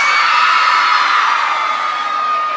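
A loud, sustained wall of high-pitched screaming and shrieking from a large crowd of women at a concert, continuous and close, slowly fading slightly.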